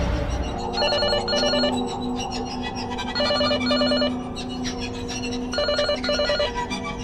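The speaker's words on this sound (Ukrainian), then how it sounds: "але почула дзвінок домофону" Ringing of an apartment-building intercom doorbell, three separate bursts of rapid electronic trilling over a steady background hum, loud and close with no talk.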